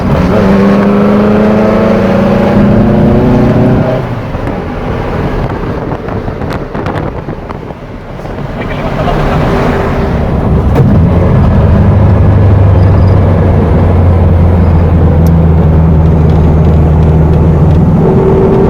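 VW Beetle fitted with a Type 4 EMPI muffler driving on the road, a steady low engine drone with wind rush that dips briefly mid-way before the droning exhaust returns, loud and close throughout.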